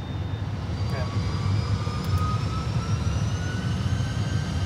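Airbus A320 jet engines hold a steady, broad roar with a low rumble and faint whining tones, heard from inside on runway 25 left before takeoff.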